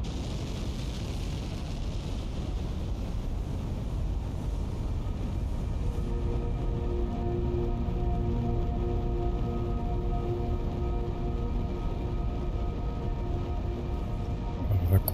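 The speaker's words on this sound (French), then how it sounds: "Il y a les 4 moteurs là qui poussent" A continuous deep roar of four rocket engines thrusting on the launch pad in Kerbal Space Program 2, rising into a sustained droning hum with layered tones; no talking is heard.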